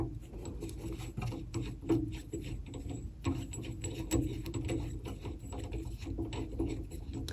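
A Woodpeckers dado nut is loosened and turned off the arbor of a SawStop table saw, giving a continuous close rubbing, rasping metal scrape that stays steady throughout.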